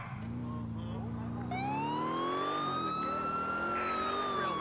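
Police car siren in the video game GTA IV, a rising and steadily wailing tone that starts partway through over a continuous low car engine rumble, fairly close and loud.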